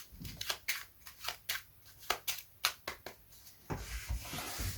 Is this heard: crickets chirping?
no